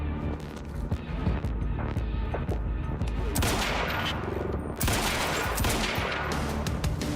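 Rapid gunfire volleys in the Quantum Break video game, including sniper rifle shots, crack out as dense bursts of loud, overlapping reports with short pauses between them, and no talking.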